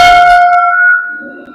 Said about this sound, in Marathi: आता तुम्हाला मी घंटी वाजवून दाखवतो. तिचा आवाज बघा किती छान आहे.